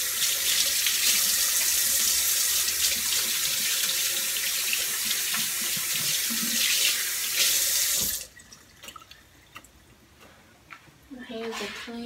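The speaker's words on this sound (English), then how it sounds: "I'm washing my hands first." Tap water runs steadily into a sink as hands are washed before baking, a loud continuous splashing stream close by that stops abruptly partway, followed by small drips and handling noises.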